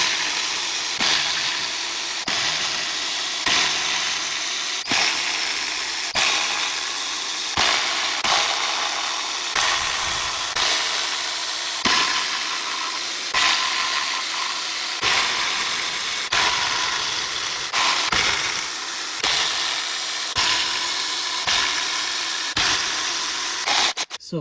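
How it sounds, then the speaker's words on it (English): Bolts coming out around a BMW E39 transmission oil pan, a ratcheting tool clicking in repeated short bursts roughly every second, close and fairly loud, with no talking. "let's remove the bolts all around."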